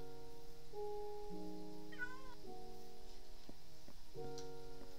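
A Minecraft cat gives a short meow in the middle of steady game ambience, with soft blocky tones and a faint sizzling backdrop throughout.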